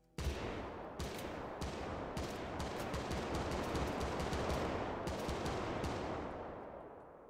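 Rapid single shots from an FN FAL rifle with an elephant-gun barrel in the online game Stay Out, a dense run of loud reports following one another almost without pause for several seconds.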